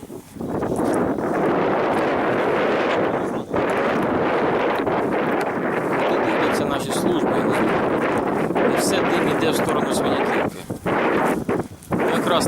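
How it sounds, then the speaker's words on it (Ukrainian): Loud, gusty wind roars across the microphone almost continuously on the Bila River floodplain near Bilokurakyne, with brief dips in the buffeting. "Вітер туди дує"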